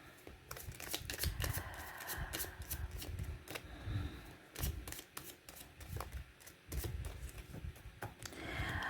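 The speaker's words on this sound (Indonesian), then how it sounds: "saya kocok kartunya" Tarot cards being shuffled by hand, with a steady run of crisp papery riffles and flicks close up across the whole stretch, pausing briefly now and then before the rapid fluttering resumes.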